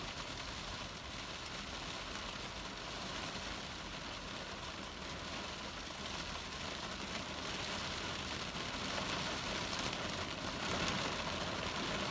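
Steady hiss of heavy rain drumming on a car roof and windows, constant and dense, fairly faint overall with no voices.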